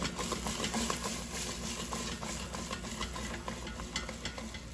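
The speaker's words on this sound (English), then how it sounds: "let's take out the air fryer basket and shake the yellow squash so it cooks evenly" Yellow squash shaken in an air fryer basket, a close, busy rattle of soft pieces tumbling against the metal basket, with scattered clicks and a steady background hum.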